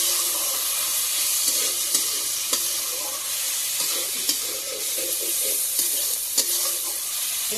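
Fish heads fry in oil with onion, garlic and ginger for a Bengali pea-lentil dish, giving a loud, steady sizzle with soft stirring scrapes coming through at intervals.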